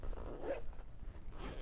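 Zipper drawn along the curved zippered flap of a fabric pouch, a quiet close short zip with a second faint pull near the end.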